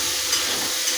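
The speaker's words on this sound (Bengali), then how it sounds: "এবার আমি কড়াই আলু পেঁয়াজগুলোকে বেশ করে ভাজতে থাকলাম।" Potatoes and onions fry in a wok in a loud, dense sizzle that holds steady and close for a brief moment, with no voices over it.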